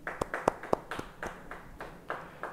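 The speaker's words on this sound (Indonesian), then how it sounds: "Yang percaya beri tepuk tangan bagi dia." A church Bible-study audience clapping for someone, with a handful of sharp individual claps early, then softer, scattered clapping from a small group fading in and out, fairly quiet.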